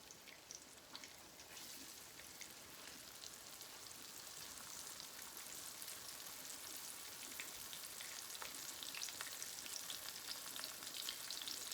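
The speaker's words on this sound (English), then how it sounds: "Fry my fish." Fish frying in a hot pan, a steady bright sizzle with crackling pops, close and continuous with no talk.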